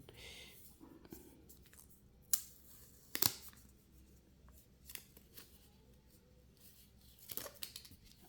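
AirPods Pro (2nd generation, USB-C) packaging is unwrapped close by: quiet papery rustling and crinkling broken by a few sharper tearing snaps, with no talking.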